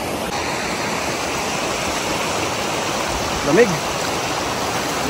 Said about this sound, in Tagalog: So tatawid tayo ng pinakaunang ilog.